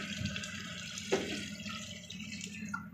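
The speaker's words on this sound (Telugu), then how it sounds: "ఇప్పుడు దీంట్లో వాటర్ అనేది యాడ్ చేద్దాం" Water is poured into a cooking pot for vegetable basmati pulao, giving a soft, steady splashing trickle that is quiet and continuous with no talk over it.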